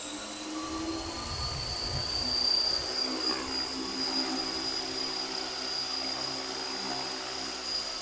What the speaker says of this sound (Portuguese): Vou fazer um voozinho aqui agora, pequenininho, pessoal, só pra gente ver como que tá a aeronave